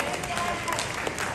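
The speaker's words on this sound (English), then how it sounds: "So round of applause for the Megan's work." An audience at a Lunar New Year celebration at Queens Borough Hall in New York applauds, a brief dense wash of clapping heard up close.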